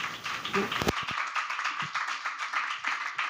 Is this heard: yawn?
no